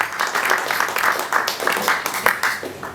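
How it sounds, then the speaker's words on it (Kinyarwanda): An audience bursts into steady applause at a Black FM radio station launch event in Burundi, a dense, continuous patter of many hands clapping close by for the whole stretch. "Mbere mufashe gukomera amashyi abatwari bacu"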